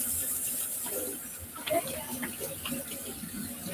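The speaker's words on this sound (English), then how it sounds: "So let me wash my hands" Hands being washed under a running tap at home during outdoor Easter lamb-spit preparation, a steady faint splash of water with brief louder splatters, with muffled voices nearby.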